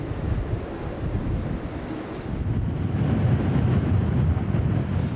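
Storm-force wind roars steadily over heavy surf on a coast, a dense, continuous rumble of breaking high waves and buffeting gusts with no voices.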